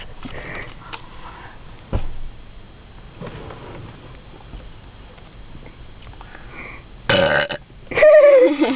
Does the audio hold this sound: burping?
yes